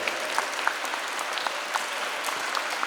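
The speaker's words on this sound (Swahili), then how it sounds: "Makofi kwa Magreen tena tafadhali." A church congregation at a Catholic Mass claps for a woman, giving steady, dense applause from many hands throughout.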